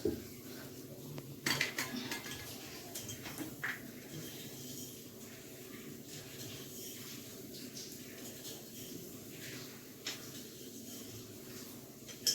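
Sugar being stirred into a cooking pan, with soft scraping and clinks of a utensil against the metal, a few sharper knocks near the start, over quiet kitchen background.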